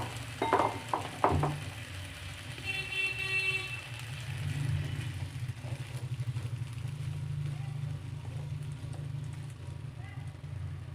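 Potatoes fry in a pan for rathan pulao, a soft steady sizzle over a low hum, with a few sharp clatters near the start.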